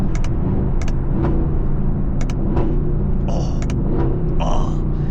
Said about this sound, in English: I will never get tired of these downshifts too.